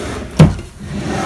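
A wooden desk drawer slides and bumps shut in a bedroom, giving one sharp, close knock followed by quiet.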